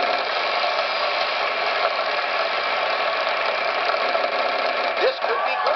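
In the Wheel of Fortune Wii video game, the spinning wheel gives a dense, fast ratcheting clatter of pegs that runs steadily, then slows and catches near the end, with a voice briefly heard over it.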